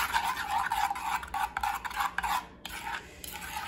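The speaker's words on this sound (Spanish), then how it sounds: "Y terminamos de mezclar con una cuchara" Spoon stirring a fish batter mixture in a bowl, close and fairly quiet, with a run of quick scraping, swishing strokes, a brief pause, then a few more strokes.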